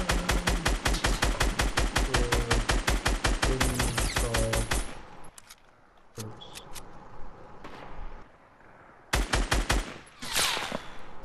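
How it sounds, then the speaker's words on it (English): Automatic gunfire rattles in rapid bursts in the video game Fortnite, a long dense volley followed by a quieter gap with scattered shots, then another sharp burst, with occasional talking in between. "I'm getting shot from like so many different people, this is not funny"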